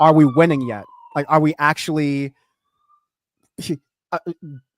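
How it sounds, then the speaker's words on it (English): A police siren passes outside as a faint, gliding wail behind a person talking close to the microphone. "sorry for the siren behind me"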